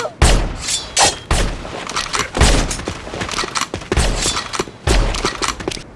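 Gunshots in the Korean online first-person shooter Sudden Attack: five or six loud, sharp shots at roughly one-second intervals, each with a booming low thump, close and dominant.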